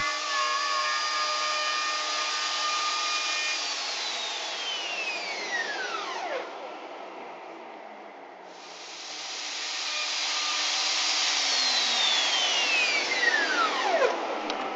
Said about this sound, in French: je monte une fraise ayant un diamètre 6 mm inférieur